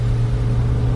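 Subaru Sambar Dias TV1 kei van climbing a hill with AT power mode on, a steady, loud low engine drone with a constant hum, close and continuous without talk.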